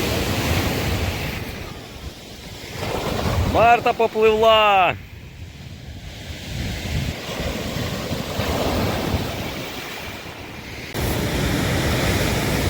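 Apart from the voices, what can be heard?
large storm waves breaking on the sea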